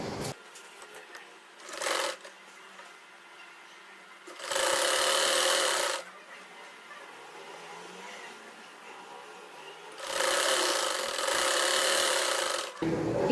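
A sewing machine stitches the sleeve of a girl's kurti in three separate runs, one very short and two longer, each a close, steady whir with quiet handling in between.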